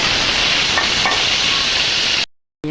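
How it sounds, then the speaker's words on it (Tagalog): Potatoes and carrots frying in a pan for chicken afritada give a steady, loud broadband sizzle lasting about two seconds, then a sudden cut to silence and a brief clatter at the very end. "ipiprito ko po muna ang ating patatas at carrots"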